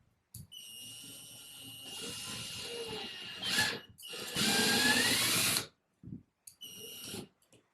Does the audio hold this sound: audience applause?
no